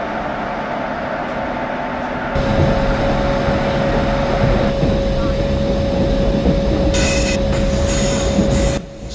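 A passenger express train in Indian Train Simulator gathers speed under gentle throttle. It rumbles steadily with rolling wheel noise, and the noise gets louder partway through, with high squeals and whines later on.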